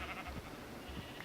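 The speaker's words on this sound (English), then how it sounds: "Some sheep right over here." A few faint, short bleats from sheep in Minecraft (FTB modpack), two or three quiet calls spaced apart over a soft background.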